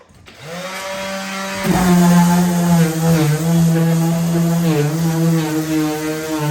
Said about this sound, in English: Grab your sander.